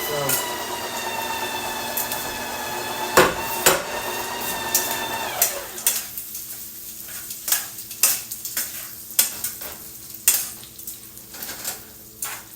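Cooked meat being stirred and reheated in a pan, with repeated clinks and scrapes of a utensil against the pan over a light sizzle, close up, alongside a steady whining tone during the first half.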